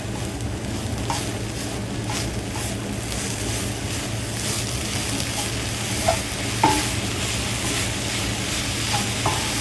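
Grated sweet potato being stir fried in an uncovered pan with salt and sugar, with a steady close sizzle and occasional soft scrapes and taps of a spatula, with no talking.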